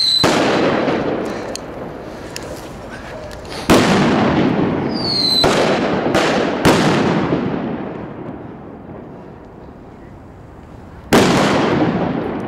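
Homemade fireworks, a ratelbandje firecracker string plus a salute ball and five Trueno Champion no. 4 firecrackers, going off outdoors: a rapid crackling run, then several sharp loud bangs with echoing tails and one final big blast.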